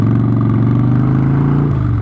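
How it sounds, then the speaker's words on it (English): A Harley-Davidson Street Bob motorcycle, suffering an idle fault, is held at revs while coming to a stop. It gives a loud, close, throbbing low engine drone that dips in pitch near the end. "So now coming to a stop, I'm going to have to keep it revving"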